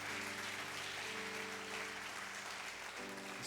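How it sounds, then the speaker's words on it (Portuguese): A church congregation applauds the Holy Spirit during a Sunday service, a continuous soft wash of many hands clapping under a sustained musical drone from instruments. "Você pode aplaudir o Espírito Santo?"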